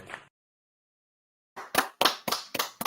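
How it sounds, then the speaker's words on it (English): Brief hand clapping from a few people: a short clap, a second of silence, then a handful of close, sharp claps in quick rhythm. "give yourselves a round of applause"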